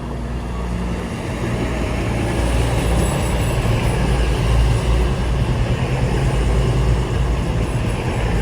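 CrossCountry train at Winchester station, a steady loud low rumble of engine and rolling wheels filling the whole stretch, building slightly toward the middle with broadband rail noise on top.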